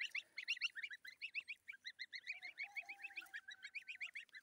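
A flock of geese honks in quick, repeated bursts, the calls overlapping densely and staying close and fairly loud throughout, with a faint drawn-out tone running beneath them midway.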